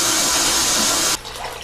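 Clean water rushing out of a water heater tank being flushed during maintenance, a steady loud broadband gush that cuts off abruptly near the end, leaving a faint low residual hiss.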